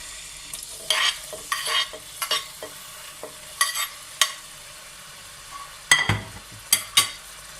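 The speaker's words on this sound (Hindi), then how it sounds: "ऑयल डालने के बाद इसमें डालेंगे टमाटर।" Tomatoes sizzle in hot oil in a kadai while a utensil stirs and scrapes the pan in intermittent sharp strokes over a steady soft frying hiss, close up with no voices.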